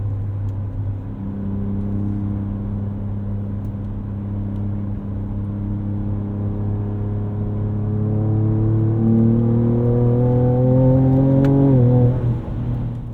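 The engine of a 2024 Ford Ranger Raptor truck on a test drive near dunes hums steadily and then climbs in pitch as it accelerates, rising louder toward the end before easing off.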